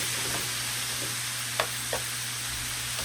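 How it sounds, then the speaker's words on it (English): Beef and other cheesesteak ingredients stirred in a pan, with a steady low sizzle and a couple of brief scraping strokes near the mic, no talking. "And now we're going to go ahead and start stirring. Get everything together. Let everything cook together."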